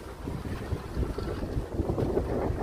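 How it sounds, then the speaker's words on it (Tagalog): Strong wind roars and buffets the microphone in gusts at a fishing port in Killybegs, County Donegal, Ireland, mixed with a low rumble of water and a fishing vessel moving. "Lakas yung hangin"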